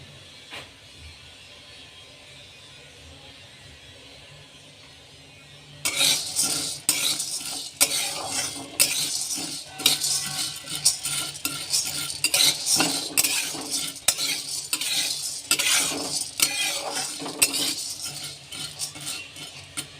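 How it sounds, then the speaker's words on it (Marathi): Lentils are stirred while dry-roasting in a pan for chakli flour, with repeated close scraping and rattling strokes that start after a quiet opening and keep an irregular rhythm, no talk. "डाळ ही तशी हलकीशी गरम करून घ्यायची आहे"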